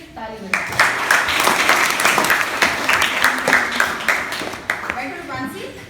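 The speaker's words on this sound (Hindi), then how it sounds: "ताली बजाओ" Students in a classroom applaud a classmate, a dense burst of clapping that carries on steadily for several seconds, loud and close, with voices talking over it.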